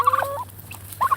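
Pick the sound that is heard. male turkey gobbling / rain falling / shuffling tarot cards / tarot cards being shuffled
male turkey gobbling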